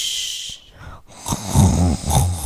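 Loud, close snoring comes in rough snorting breaths after a brief quiet moment, with a rattling, throaty drone repeating twice.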